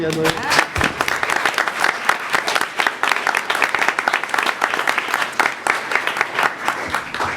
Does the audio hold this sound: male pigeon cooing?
no